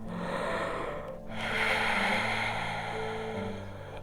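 A deep, drawn-out breath taken during a seated chair yoga pose, a long airy inhale and exhale with a brief pause between, close and steady with no talking.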